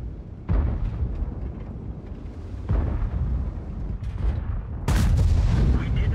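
Three heavy cannon booms from an Object 277 tank firing HEAT rounds in World of Tanks, spaced roughly two seconds apart, each a loud burst with a rumbling tail.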